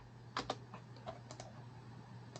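Someone types a short entry on a computer keyboard while setting up a t-test, producing a faint, quick run of soft key clicks in uneven bursts in a quiet room.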